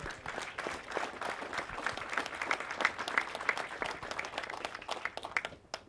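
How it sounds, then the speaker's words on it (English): Applause at a university pass and review ceremony, a moderate crowd clapping steadily for about five seconds, heard from some distance and fading out at the end. "Let's give him a round of applause."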